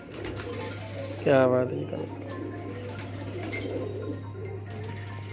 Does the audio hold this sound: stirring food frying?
no